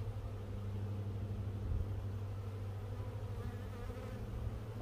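Honey bees buzz steadily at an open Warre hive, a close, continuous low drone with no voices over it.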